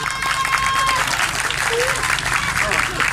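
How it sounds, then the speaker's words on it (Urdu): A church audience at a sermon breaks into loud, sustained applause, with a voice faintly audible over the clapping throughout. "میں چاہوں گا کہ ایک دفعہ پھر خدا کے خادم کے لیے ہم زور سے تالی بجائیں"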